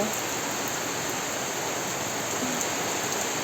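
Steady, dense typhoon rain hiss with no breaks, a constant wash of heavy rainfall in Odiongan, Romblon, filling the whole clip without voices.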